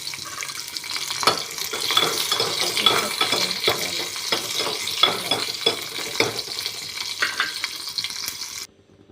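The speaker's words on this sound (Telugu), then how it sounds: "వేడి ఆయిల్లో పచ్చిమిర్చి త్వరగా వేయించుకోవాలి" Green chillies fry in hot oil in a pan, a steady close sizzle broken by repeated stirring scrapes and clatters that go on for about eight seconds before stopping abruptly.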